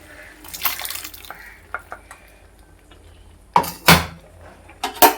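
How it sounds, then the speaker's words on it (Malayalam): Liquid poured into a curry and stirred in a cooking pot, heard as a few close sloshing splashes and clinks separated by quiet pauses. "ഒഴിച്ചു കൊടുക്കാം അതിലേക്ക് ഞാനത് കലക്കിക്കൊണ്ടിരിക്കുകയാണ്"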